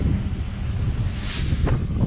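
Wind blows across a torn-up open field, a steady low buffeting rush against the microphone with a brief swell near the end and no voices.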